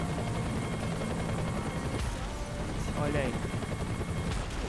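Loud sci-fi weapon fire from a UFO X808 spacecraft mod in GTA San Andreas, a dense roaring, crackling barrage running steadily throughout with a brief spoken remark over it.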